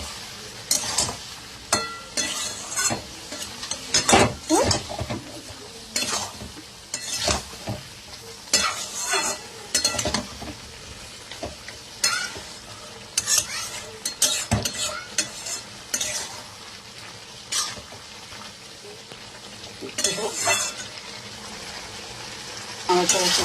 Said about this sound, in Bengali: আবার নাড়াচাড়া করলাম।